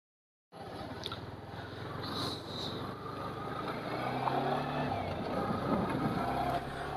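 A motorcycle on a road at the start of a ride, engine running steadily after a brief silence, with broadband road and wind rumble throughout and no speech.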